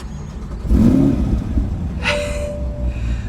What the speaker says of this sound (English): let's just hear this big V8